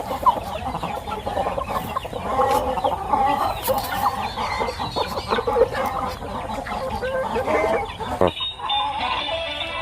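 Gamefowl hens and roosters at a fighting-rooster breeding unit cluck continuously in a dense, close chorus, with scattered sharp calls and a steady farmyard background throughout.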